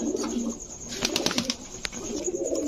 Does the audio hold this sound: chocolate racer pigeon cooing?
yes